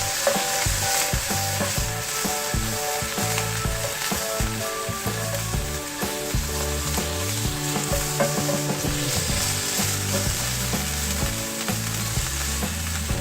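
Chicken frying in a pan for chicken macaroni, a steady sizzle with stirring scrapes, running continuously and fairly loud beneath tuneful background music.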